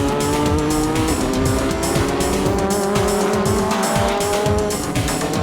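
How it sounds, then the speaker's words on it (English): JGTC race cars, including a Honda NSX and a Mazda RX-7 on Yokohama slicks, battle for the inside line in the GT300 class; loud, continuous engine roar with shifting revs and tire squeal, no talk. "The M-Tech NSX shoves the RX-7 aside to take the inside line."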